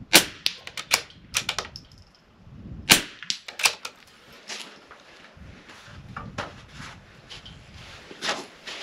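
Sharp rifle cracks from an NRL22 match, fired kneeling with the right knee tucked under the stock, ring out in an irregular series of crisp, close shots with fainter clicks and handling noises between them.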